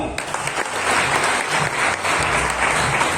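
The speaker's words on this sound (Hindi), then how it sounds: "नेक्स्ट जोरदार तालियां।" Loud, dense applause from a crowd at a Jashn-e-Jaguar celebration in Jammu and Kashmir, sustained for several seconds with a steady wash of clapping and little voice.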